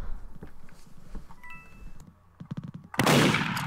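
A single loud gunshot blast in Roblox Murder Mystery 2 near the end, preceded by quieter game sounds and a few clicks, the shot bursting suddenly and close.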